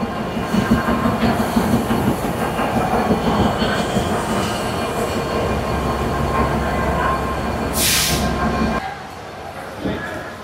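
A local train running from Rajshahi to Chapai Nawabganj in Bangladesh rumbles and rattles steadily up close, with a brief hissing burst near the end before the noise drops away, and people may be talking faintly in the carriage.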